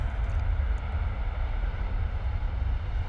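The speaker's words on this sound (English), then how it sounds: "Ryanair coming in from Malaga." A Ryanair Boeing 737 arriving at Stansted from Malaga produces a steady, distant low roar of jet engines that holds without change throughout.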